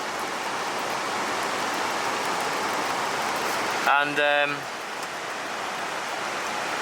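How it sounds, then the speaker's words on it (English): Continuous soft patter of rain dripping onto a tarp overhead, steady throughout, with a single brief spoken word partway through. "It is wet, it is dripping from the roof."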